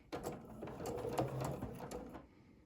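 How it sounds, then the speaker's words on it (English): A domestic sewing machine runs a brief burst of quick locking stitches, a rapid close mechanical chatter of needle strokes lasting about two seconds before stopping, with no speech. "Just going to do a couple quick locking stitches."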